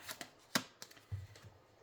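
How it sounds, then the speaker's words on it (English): Oracle cards are shuffled by hand, several quiet, crisp riffling and tapping bursts with brief gaps between them. "Let me just shuffle these around one more time"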